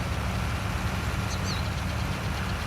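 A tractor engine in the PS4 farming game Farming Simulator 19 runs in a constant, even drone, with no talk over it.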